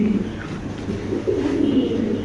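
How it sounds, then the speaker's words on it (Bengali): A pair of pouter pigeons cooing up close, soft low throaty coos that swell and fade over a faint background hum. "এখানে আছে এক পেয়ার পটার কবুতর"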